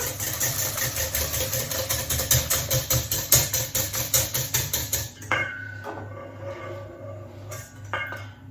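A spoon or whisk stirring cake batter with melted butter in a bowl for a light apple moelleux, rapid rhythmic scraping clinks for about five seconds, then quieter scattered taps.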